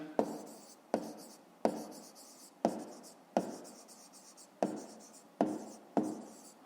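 A pen scratches on paper during a fifth-grade math exercise, in eight evenly spaced strokes, each starting with a sharp tap and fading out, close and quiet, with no talking.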